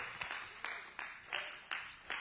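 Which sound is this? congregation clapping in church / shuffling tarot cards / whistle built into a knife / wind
congregation clapping in church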